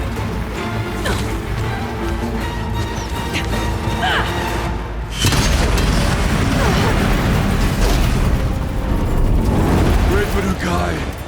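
Explosive ammo detonations in the Horizon Zero Dawn Complete Edition boss fight, heavy crashing blasts building into a dense, loud rumble of impacts and debris over a busy game soundtrack, with voices talking.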